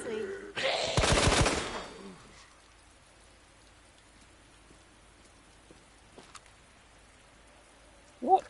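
A burst of submachine gun fire from the SMG in Resident Evil 2 rips out loud and fast for about a second and a half, then the scene drops to near quiet with a few faint clicks and one brief late thud.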